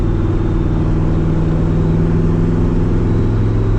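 A 1980 Corvette with stage 1 upgrades drones loudly and continuously on a test drive. The engine tone stays steady and close throughout, with no voices.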